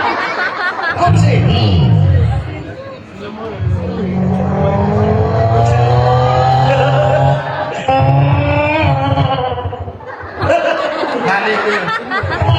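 A voice imitates a car by beatboxing, with loud revving engine drones and squealing tire-like sweeps close to the mic, broken by short pauses and some laughter and chatter.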